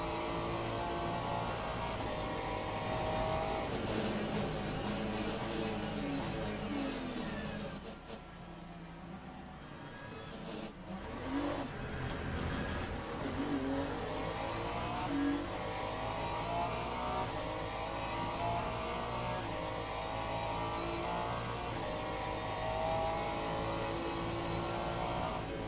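A hypercar's engine in a racing video game at Imola drones and revs continuously, with pitch rising and dropping through gear changes and a brief lift off the throttle midway; no speech.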